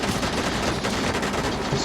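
Rapid, continuous gunfire from The Division 2 video game fills the short moment as a loud, dense, unbroken stream of overlapping shots.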